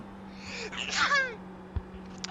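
A single sharp sneeze bursts out close by during an iRacing Mini Stock session, a quick intake followed by an explosive release, then quiet with a faint low hum underneath.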